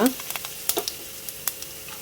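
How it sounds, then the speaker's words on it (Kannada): Mustard seeds, cumin, asafoetida and curry leaves hitting hot oil, giving a soft sizzle broken by sharp scattered pops and crackles, close by and fairly quiet. "ಎಣ್ಣೆ ಬಿಸಿ ಆಗ್ತಾ ಇದ್ದಾಗೆ ಸಾಸಿವೆ, ಜೀರಿಗೆ ಹಾಗೂ ಇಂಗು ಹಾಕ್ಕೊಳ್ತಾ ಇದ್ದೇನೆ. ಜೊತೆಗೇನೆ ಕರಿಬೇವು ಕೂಡ."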